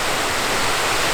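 Water rushes steadily into a canal lock through the open paddle holes, a loud, continuous broadband roar with no pauses or speech over it.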